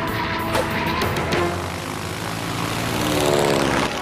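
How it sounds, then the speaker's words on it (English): A propeller airplane drones overhead in an animated cartoon, a loud, steady engine roar with a rushing wash that swells slightly toward the end. No voices. "A plane is in our airspace."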